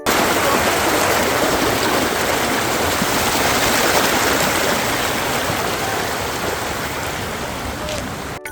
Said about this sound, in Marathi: थोडे पुढे गेल्यावर आम्हाला हा धबधबा दिसला.